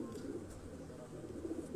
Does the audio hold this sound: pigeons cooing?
yes